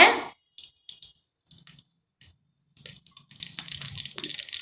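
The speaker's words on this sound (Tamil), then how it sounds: "இப்போ நாம் கடுகு சேர்த்துலாங்க" Mustard seeds hit hot oil in a pan for a masala egg stir-fry, giving scattered sharp pops and crackles that build into a denser, continuous sizzle near the end.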